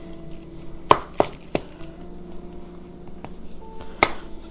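A knife strikes a board while trimming the edges of a log of butter cookie dough, a few sharp taps and knocks spread unevenly over several seconds, close and clear with quiet pauses between.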